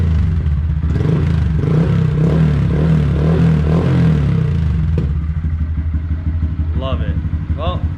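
A Honda Grom motorcycle fitted with a Yoshimura exhaust revs up close and loud, holding a throbbing burble before dropping to a choppier idle, with brief clatter near the end.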